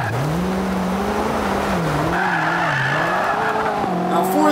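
A roaring race car engine in Forza 5 with rising and falling revs and squealing tires, loud and continuous, with no one speaking.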